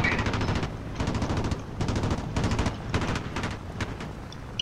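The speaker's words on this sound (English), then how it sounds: "P-47, he's just shooting randomly" Video game P-47 fighter plane machine guns fire in several rapid rattling bursts separated by short pauses, loud and close, with no talk over them.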